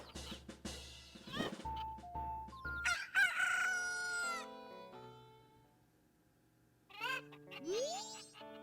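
Roosters crowing in the video game Zelda: Majora's Mask, several clear crows in sequence, some short and some drawn out with rising tones, against a low musical drone and quiet gaps.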